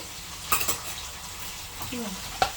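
Chopped onions fry in a pan with a close, crackling sizzle, as a spoon stirs and knocks against the metal a few times in quick clusters.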